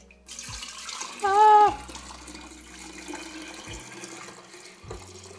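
Homemade kombucha tea being poured into a bowl, a steady splashing liquid pour with a brief louder, bubbling gush early on, then a continuing trickle; close and fairly loud, with no talking.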